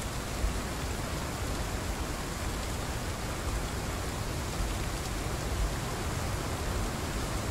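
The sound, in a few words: rain in the video game Path of Titans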